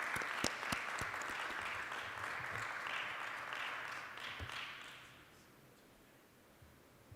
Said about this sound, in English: let's give our presenters a big round of applause.